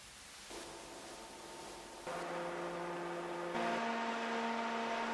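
A Noctua NF-A14x25r G2 140 mm computer fan runs steadily, a smooth broadband whoosh with a faint tonal hum that steps up in loudness twice as the speed rises, heard alone with no voices.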